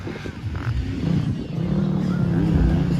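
Motocross motorcycles race during a heat at a local competition, engines droning steadily and building in pitch, loud and continuous with crowd babble mixed underneath.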